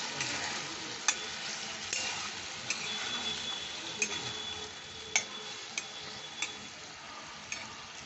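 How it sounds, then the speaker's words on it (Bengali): Brinjal stir-frying with spices in a pan over lowered heat, a steady close sizzle with faint scraping and a few sharp ticks of a spoon against the pan. "এবার আমি বেগুন দিয়ে দেবো বেগুন সহ এটা কষতে হবে"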